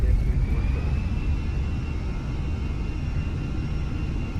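Airbus A320 engines roar at take-off power in a flight simulator game: a steady, loud rumble with a thin high whine that holds unchanged throughout.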